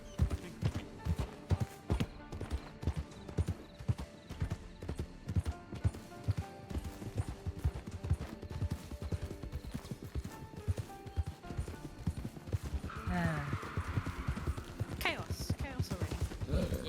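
Horse hooves clip-clop in a steady rhythm in the Red Dead game, close and continuous, while people talk over them, with a brief horse call late on.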